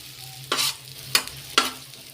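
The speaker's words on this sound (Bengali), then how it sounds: "এখন এটা সুন্দর করে ভেজে নিই পেঁয়াজটাকে" Onions frying in a pan for an egg fry: a steady sizzle broken by three scraping stirs at a close, even pace.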